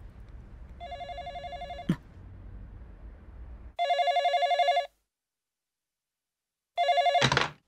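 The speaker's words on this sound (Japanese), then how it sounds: "マヤんちから電話があったのよ。" Telephone ringing indoors in an anime scene, electronic bell tones in three bursts, the first over background sound, the last two loud and clean with silence between them.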